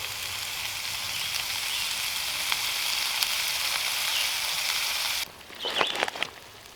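Butter sizzles steadily in a pan over a camp stove outdoors, a loud, continuous crackling hiss that cuts off abruptly near the end, followed by a few quieter scraping stirs.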